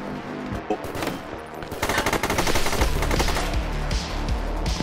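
SMG fire in the 2D shooter game Gunsaw, where humanoid animals are shot apart, comes as loud, rapid automatic bursts that build into near-continuous rattling.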